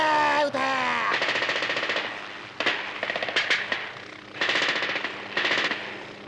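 Rapid machine gun bursts from a 1981 mecha anime battle near the North Pole, several loud rattling volleys separated by short pauses, with a brief shout at the start.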